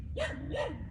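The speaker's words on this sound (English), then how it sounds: "I apologize for the dog in the background" A dog barks twice in quick succession, fairly close and clear, with no talking.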